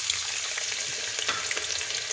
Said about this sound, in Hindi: प्याज को हमने फुल गरम किए हुए कुकिंग ऑयल में डालना है